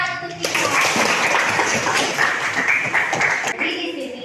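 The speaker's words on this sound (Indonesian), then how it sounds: "Kasih tepuk tangan untuk Vino." Classroom applause for a student named Vino, a burst of many hands clapping steadily for several seconds, loud and close, with children's voices mixed in.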